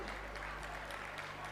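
An audience at a Britain Group of Schools and Colleges anniversary ceremony applauds 26 years of the school system with a brief, steady wash of clapping throughout.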